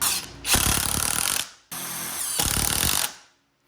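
A SKIL PWRCore 20 cordless impact driver hammers a large bolt in two loud close bursts of rapid rattling impacts, each about a second long, separated by a short pause.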